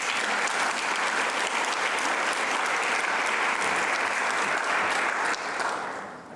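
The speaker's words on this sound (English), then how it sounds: "May I ask for a round of applause for them" A conference audience at an anniversary event claps in a steady, dense round of applause lasting about five seconds, then tapers off quickly at the end.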